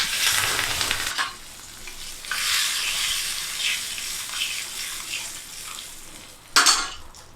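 Asafoetida and curry leaves hit hot tempering oil for a Salem-style black bean kootu, crackling and sizzling loudly at first, then settling into a steady fizz with brief bursts and a spoon stirring, no talking.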